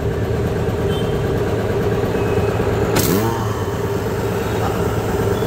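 An air compressor on a 500-pound tank, driven by a Godrej motor, runs with a loud, steady, close mechanical hum throughout. A brief hiss cuts in partway through.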